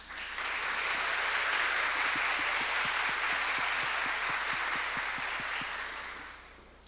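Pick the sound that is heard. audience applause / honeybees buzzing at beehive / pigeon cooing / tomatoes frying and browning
audience applause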